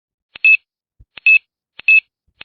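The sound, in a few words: phone dialing tones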